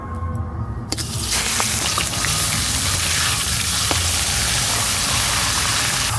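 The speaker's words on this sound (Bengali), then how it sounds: "প্রথমে রুই মাছের মাথাগুলো ভালো করে ভেজে নেব" Rohu fish heads hiss and sizzle in hot mustard oil in a kadai. After a short quiet start, loud, continuous frying noise fills the rest of the clip.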